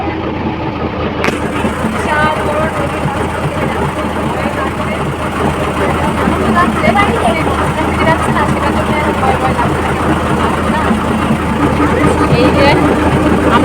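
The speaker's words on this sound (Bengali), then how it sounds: "আমাদের কিন্তু ভুটভুটি ছেড়ে দিয়েছে" A motor-driven river ferry boat (bhutbhuti) has just left the ghat and is crossing a wide river. Its engine gives a loud, steady low drone with constant mechanical chatter, and a person speaks over it throughout.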